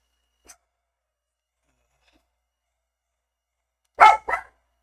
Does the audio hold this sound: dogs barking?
yes